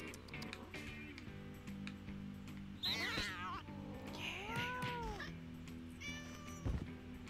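A cat meows in the video game No More Heroes 2: several drawn-out, wavering meows and caterwauls in the middle, clear over a quiet game background.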